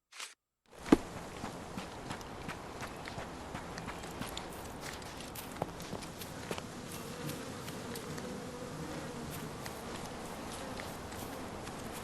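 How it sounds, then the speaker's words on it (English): Bees buzz through a Sherlock Holmes Chapter One game scene, a steady insect drone under repeated soft footsteps and clicking, constant and fairly close. "I should write a book about the behavior of bees someday."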